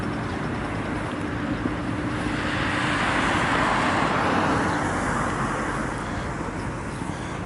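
Steady traffic roars along the major Dunajska road in Ljubljana, a continuous broadband wash of passing vehicles heard from close by while walking alongside, with no talking.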